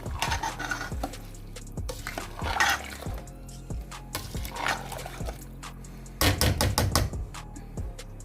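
Rice and water are stirred in a metal pot with a spoon, giving a run of irregular clanks, knocks and scrapes with wet sloshing between them, ending in a quick cluster of sharp taps.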